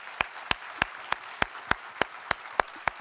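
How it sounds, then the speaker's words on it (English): At a data festival opening ceremony, evenly spaced claps ring out about three per second, distinct and fairly close, as if from a single person or a small group rather than a full audience. "Round of applause for Aidan."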